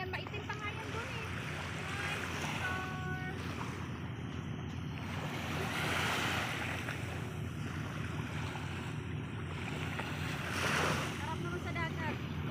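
Sea waves wash onto a beach at Coney Island, a steady surf roar swelling and receding under strong wind buffeting on the microphone. Faint voices can be heard in the background.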